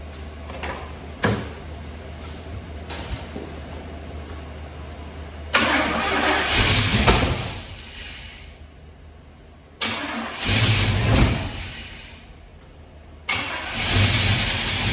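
A 1978 Pontiac Firebird Trans Am engine cranks in repeated bursts, catching and revving briefly before dying, then cranking and firing again several times, loud and close with no talk.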